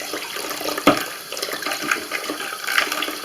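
Water runs into a kitchen sink while a greasy sink trap is scraped and rinsed. The flow is steady and close, with a splash or knock early on.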